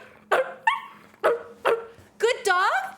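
A dog gives a series of short, sharp barks and yips, about six bursts spaced across a few seconds, the last ones rising into a drawn-out whining howl, fairly close and loud with no talk.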